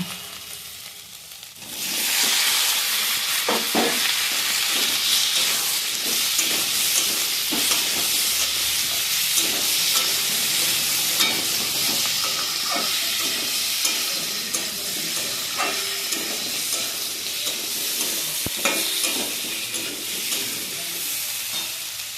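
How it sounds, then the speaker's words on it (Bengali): Fried ridge gourd pieces go into cooked-down spice masala and sizzle loudly, a steady close hiss broken by occasional scrapes and knocks of a spoon stirring the pan. "মশলাটা কষিয়ে নিলাম। এবার ঝিঙেটা ভেজে রেখেছিলাম, ঝিঙেটা দিয়ে দিলাম।"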